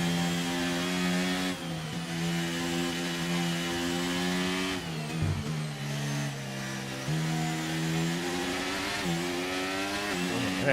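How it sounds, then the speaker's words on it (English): An F1 car in a Zandvoort racing game screams under heavy throttle, its engine note climbing and dropping through quick gear changes, loud and steady with brief dips off throttle. "as you can hear, he is working that throttle"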